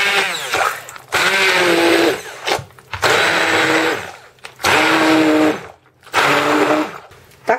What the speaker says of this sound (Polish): blenduję jeszcze troszeczkę, żeby mi się to dobrze zmiksowało